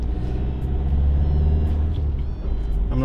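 Car driving on a road, a loud steady low engine and tyre rumble close inside the cabin, continuous with slight swells and no talking.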